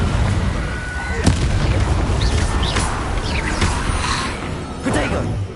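Confringo spell blasts from Hogwarts Legacy go off as sharp explosive bursts amid busy combat effects, a few distinct impacts over dense, loud background noise.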